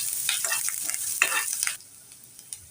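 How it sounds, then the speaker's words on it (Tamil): Onions sauté in a pan with curry leaves for a village-style greens dish, producing a loud, bright sizzle broken by quick stirring scrapes that drops abruptly to a faint hiss partway through. "நம்ம இந்த வெங்காயத்தை கொஞ்சம் வதக்கி எடுத்துக்கலாம்."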